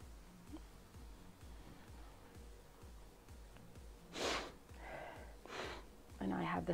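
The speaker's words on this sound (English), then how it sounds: "And I have the sniffles now." A few quick sniffles and breathy snorts close by, scattered over a quiet background hum.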